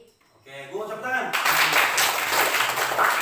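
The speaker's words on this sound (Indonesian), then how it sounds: "Oke, gue tepuk tangan." A classroom breaks into applause during a computational thinking lesson after a brief voice, the clapping arriving suddenly as a loud, dense, steady wash that fills the room.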